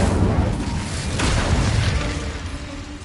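Incendio, the fire spell in Hogwarts Legacy, gives a continuous loud roaring, crackling rush that holds for about three seconds with a brief surge in the middle.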